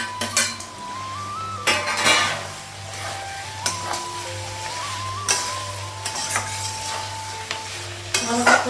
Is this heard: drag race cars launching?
no